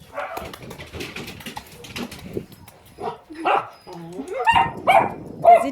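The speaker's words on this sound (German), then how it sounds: "das ist ein kleiner, dicker Hund" A small shelter puppy yips, barks and whimpers in short irregular bursts, close by, with rising whiny cries toward the end, while people talk softly nearby.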